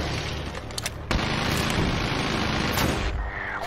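Heavy gunfire in the video game Medal of Honor Warfighter, with loud, dense volleys and booming shots packed tightly together at close range for the whole stretch.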